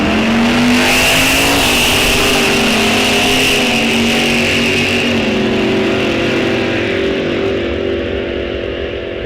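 A pair of Chevrolet drag cars, one a Chevelle, rev hard on the starting line at a drag strip, a loud, sustained, close engine roar that stays steady with slight pitch shifts.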